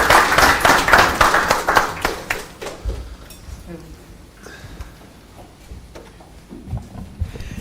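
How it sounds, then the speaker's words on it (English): A lecture audience claps for several seconds after a talk on monetary policy responses to post-pandemic inflation, loud and dense at first, then thinning out as voices and scattered claps carry on in the room. "let's give a big round of applause"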